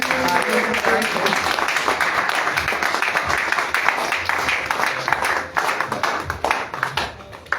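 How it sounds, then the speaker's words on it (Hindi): Audience clapping at a small wellness company program in Rewa, a dense steady patter of many hands throughout, with voices talking underneath. "तालियां बजती रहे।"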